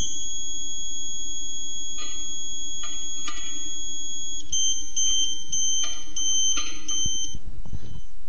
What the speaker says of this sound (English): Change direction until you hear the continuous tone, and keep going until the beeper tone drops again.